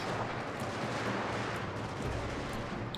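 Massed troops firing volleys in a Total War: Shogun 2 online multiplayer battle, a dense, continuous roar of gunfire and battle noise with scattered sharper cracks and no pauses.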